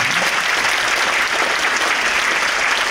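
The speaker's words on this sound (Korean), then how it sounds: "이 부분에 대해서 여성 공직자들 박수 한번 쳐야 되나요?" Dense, loud applause from a large indoor audience at a mayoral inauguration ceremony in Yongin, South Korea, a continuous roar of many hands clapping with no voices above it.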